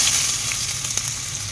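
Ginger sizzles alongside garlic in a hot pan, a steady, close, fairly loud frying hiss with a slight flicker partway through and no talking.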